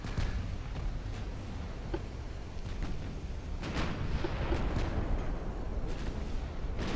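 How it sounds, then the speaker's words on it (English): Naval gunfire and explosions rumble through an ammunition detonation that sinks a pre-dreadnought-era heavy cruiser in the Ultimate Admiral: Dreadnoughts game, with steady low booming and scattered sharp blasts throughout. "Ammo detonation. Down goes our heavy cruiser."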